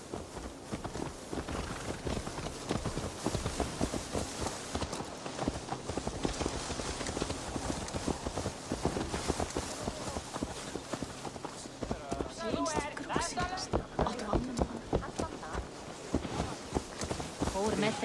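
Horse hooves clip-clopping steadily at a trot in Assassin's Creed Valhalla, close by, with soft wind in the background throughout.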